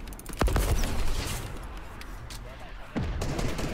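Weapon fire in Fortnite during an end-game squad tournament fight, with a couple of sharp close shots standing out over a busy, continuous bed of game sound and voices talking.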